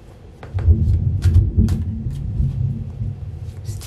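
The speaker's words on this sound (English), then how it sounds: "It's thundering out." Thunder rumbles outside in low, rolling swells that rise and fade over a few seconds, fairly loud with no voices.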